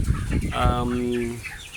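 A chicken's drawn-out, wavering cluck rises over a busy background of other birds in cage-type housing, close by and fairly loud.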